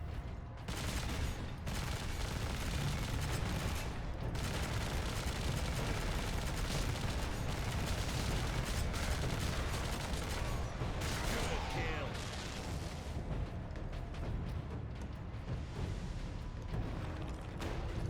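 Sustained heavy bolter fire in the Warhammer 40K Space Marine video game, a dense unbroken roar of gunfire and explosions lasting throughout, with someone talking over the barrage.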